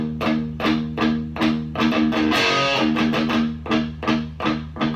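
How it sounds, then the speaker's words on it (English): Distorted electric guitar plays the palm-muted open-E and G5 power-chord verse riff from a song slowly, a steady two-bar pattern of chugging, chopped strums, loud and close, with no talking. "so I'll play it slowly now."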